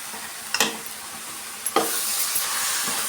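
Lentils, jaggery, cardamom and grated coconut being stirred together as a sweet filling for obbattu, with a few soft scraping strokes against the pan over a faint, steady background hiss; no one speaks.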